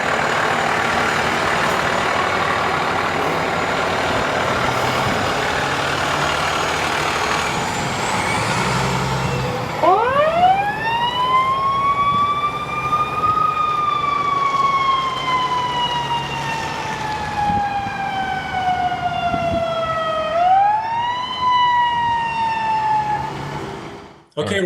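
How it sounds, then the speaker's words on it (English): A Windsor Fire fire truck siren wails loudly up close, opening with a steady tone before rising and falling sweeps, followed by a second rising whoop near the end. "if you hear the fire truck coming down, put your hands over your ears to protect yourself. The sirens are loud"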